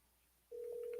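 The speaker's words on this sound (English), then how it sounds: "Okay, it's ringing now." A telephone ring tone starts midway through as a call is placed, a single steady tone held clearly and alone after a brief quiet stretch.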